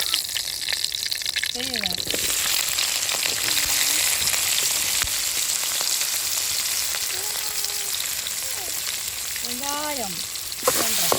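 Oil heating in a pan on a home stove at night gives a steady, loud bed of frying hiss throughout, with brief clinks and a voice speaking over it.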